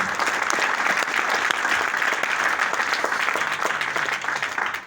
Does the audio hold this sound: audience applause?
yes